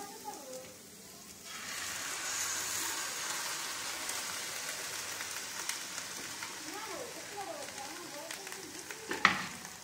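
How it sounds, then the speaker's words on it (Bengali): Boiled tadka dal hits a hot pan where egg has just fried, bursting into a steady, moderately loud sizzle that holds for several seconds, with faint stirring scrapes and a sharp clink near the end. "এইবারে আমি সেদ্ধ তরকা ডালটা ঢেলে দেব।"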